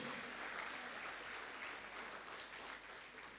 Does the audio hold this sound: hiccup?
no